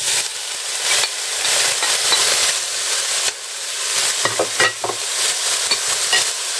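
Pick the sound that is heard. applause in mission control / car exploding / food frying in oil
food frying in oil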